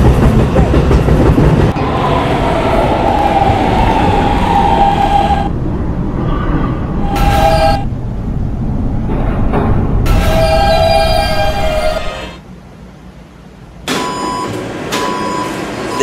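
A Roblox subway D train in a video game runs loudly with motor whine and rail clatter, then slows and quiets briefly before tonal chimes and renewed noise near the end.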